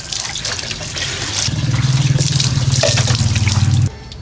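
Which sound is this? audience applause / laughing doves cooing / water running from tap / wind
water running from tap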